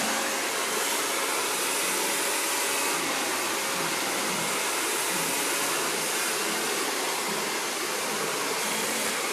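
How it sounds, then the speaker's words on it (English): A hair blow dryer runs continuously at close range, a steady loud whooshing roar with no speech over it. "this whole chunk of hair in front of the ear is what I'm going to blow dry"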